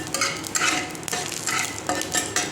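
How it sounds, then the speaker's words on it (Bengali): Black cumin seeds and three dried chillies frying in a little hot oil, a light crackling sizzle with repeated scraping strokes of a utensil, no voices. "দেখো তেল বসিয়ে দিয়েছি, এর মধ্যে দিয়ে দিচ্ছি আমি এই যে কালো জিরে। তো আর দিয়ে দিচ্ছি 3টে শুকনো লঙ্কা।"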